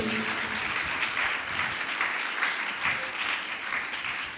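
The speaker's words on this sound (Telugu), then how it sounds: "నా మాట అర్థమైన వాళ్ళు చప్పట్లు కొట్టండి." A church congregation claps together, a sustained crowd of hands filling the room at moderate distance, steady without pause.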